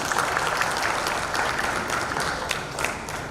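A round of applause from the audience at a steel-sector consumers' meet, honouring the customers; continuous crowd clapping holds steady throughout, moderately loud, with faint room ambience beneath.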